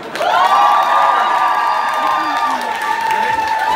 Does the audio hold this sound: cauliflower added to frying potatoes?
no